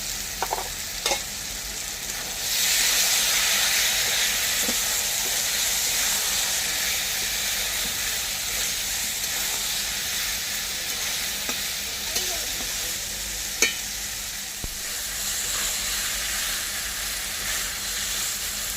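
Ginger and spices sauté in a pan for a vegetable curry, a steady loud sizzle and hiss that flares up after a quiet start and carries on with occasional stirring clinks, no talking.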